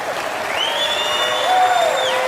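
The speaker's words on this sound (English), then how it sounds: "I don't know what you're applauding for" A live audience at a comedy storytelling show breaks into applause, a broad sustained clapping wash with a few whistles or tonal sounds riding over it.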